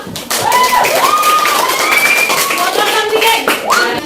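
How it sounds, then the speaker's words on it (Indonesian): A class of students clap their hands during a teacher-training lesson in a classroom, a dense, steady patter of many hands filling the room, with voices calling and chattering over it. "tepuk tangan untuk kita"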